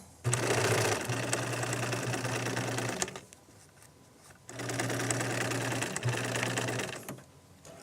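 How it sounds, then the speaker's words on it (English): A sewing machine stitches a straight line in two close, steady bursts of rapid mechanical whirring, separated by a brief quiet pause. "I'm going to sew on the line"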